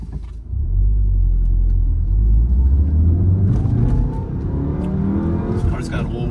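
A 2016 Volkswagen Golf R pulling away on a road, its engine rumbling deep and loud as revs climb and the note rises, heard from inside the car with some talk over it.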